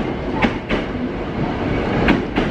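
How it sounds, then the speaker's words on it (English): A train at an Osaka railway station passes with a steady rumbling wash and several sharp clicking wheel thumps spaced through it, close and fairly loud. "we're at the train station"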